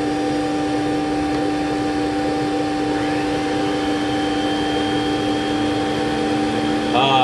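Motor of a Rainbow vacuum cleaner running with no load: a steady, loud electric whine with fixed tonal hum layers that barely changes, a slight rise in pitch near the end, and no voices.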